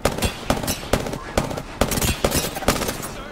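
Rapid automatic gunfire from a video game crackles in repeated sharp bursts roughly every half second, loud and close, with no talk over it.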